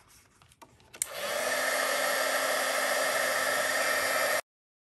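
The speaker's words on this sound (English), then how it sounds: "I'm just going to plug in my heat tool here, and we will heat this up" An embossing heat tool switches on and blows hot air in a loud, steady whoosh with a constant hum, running alone for about three seconds before cutting off abruptly.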